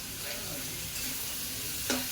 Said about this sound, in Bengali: পেঁয়াজ আর আলু দুটো একসঙ্গে ভাজা হবে